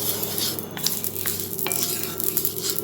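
Oil is spread across a hot iron dosa griddle, producing a continuous close sizzle with occasional scraping and stirring sounds.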